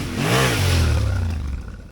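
A big, heavy adventure motorbike accelerating on a short exercise track, its engine note climbing loudly and close, then holding a steady throaty drone before easing off.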